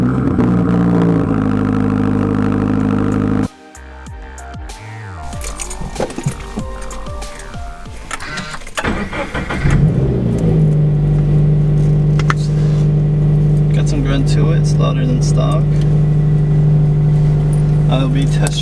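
A car engine rumbles through its exhaust, then revs in uneven surges before settling into a loud, steady droning tone, with voices talking over it.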